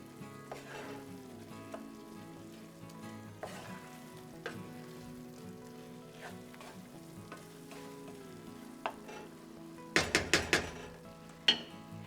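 Roux and wine sizzling in a pan over high heat as the alcohol cooks off, a soft steady crackle with occasional utensil clicks and a burst of scraping stirs near the end.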